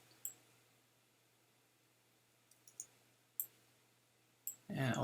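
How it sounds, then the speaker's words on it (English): Computer keyboard keys are pressed in a few sharp, isolated clicks spread across a quiet room, with a louder burst of movement at the end. "I'm pressing plus and minus on my keyboard to zoom in and zoom out"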